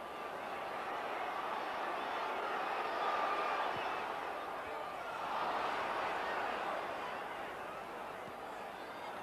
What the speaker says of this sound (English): Crowd getting a bit restless at Ayresome Park